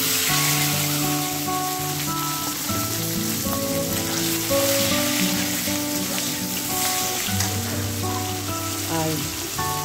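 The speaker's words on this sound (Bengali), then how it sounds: "তেল গরম হয়ে গেছে, এখন আমি এই টমেটো, পেঁয়াজ আর এই গোটা রসুনটা এখানে দিয়ে দিচ্ছি।" Tomato, onion and whole garlic sizzle steadily in hot oil, a dense, even crackle under soft background music with no talking.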